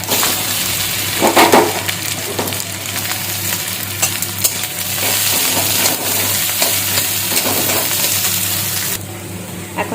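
Chopped green chilli and potato go into a hot frying pan, giving a loud, continuous sizzle with clattering stirs and a brief burst of frying noise as they land.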